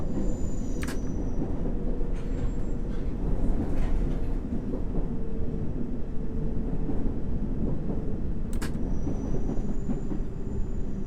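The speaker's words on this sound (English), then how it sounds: "This is a Circle Line train to Hammersmith." A London Underground Circle Line train from the game World of Subways runs above ground toward Hammersmith, with a steady loud rumble and rail clatter throughout and two brief sharp squeal-like bursts.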